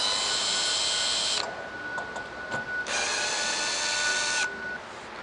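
Cordless drill backs screws out of a livewell lid hinge in two close, high whirring runs, separated by a short pause with light clicks.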